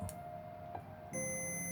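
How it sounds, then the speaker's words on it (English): A continuity tester gives a steady electronic beep when its probes bridge the pads of a Commodore 64 two-button controller being modded. The tone cuts in sharply near the end and holds loud and clear, with no talk over it. "if I sort of join them pads up, it should give you a beep"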